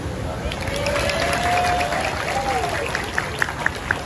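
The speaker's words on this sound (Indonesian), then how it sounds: "Tepuk tangan." Crowd applause at a large Islamic religious gathering celebrating a village anniversary. It rises as a broad wash beneath a voice, and a few sharper, separate claps stand out toward the end.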